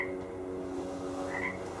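Frogs croak in a steady, low, pulsing chorus outdoors on a rural property, with a faint higher chirp rising briefly near the end.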